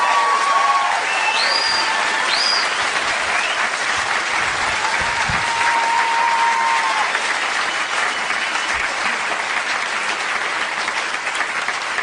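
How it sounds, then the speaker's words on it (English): A comedy club audience at the Sydney Comedy Store gives sustained, dense applause that stays loud and even throughout, with a few whoops and whistles rising above it. "Can we have a big round of applause for everyone here at one of my favourite clubs of all time, the Sydney Comedy Store?"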